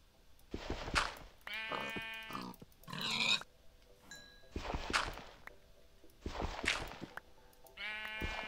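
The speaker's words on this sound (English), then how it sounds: "I hear another sheep." Sheep in a video game, Minecraft-style modded world, bleating several times in short, clear, close calls with pig-like grunts mixed in, no talk.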